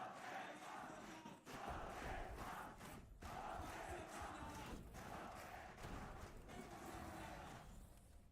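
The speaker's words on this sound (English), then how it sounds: "Listen to the crowd willing them forward." Arena crowd at a Valorant esports grand final watch party, a dense, continuous roar of cheering and shouting that swells slightly in places, heard alone at a distance.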